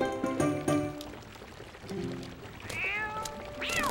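A cat meows in the video game The Legend of Zelda: Twilight Princess, with a few clear, close mews, one early and a couple of rising cries near the end, mixed with faint game sound effects and no speech.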